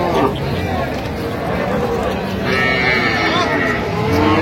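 Busy cattle market where a Sahiwal cow stands with her calf, a dense din of crowd babble and livestock noise running steadily throughout, with a faint low moo buried among the chatter of traders.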